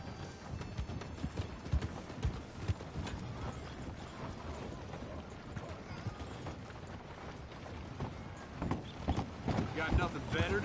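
Horse hooves clip-clop steadily in a PS4 video game, a continuous busy trotting rhythm with occasional louder thuds, heard amid game ambience and a voice.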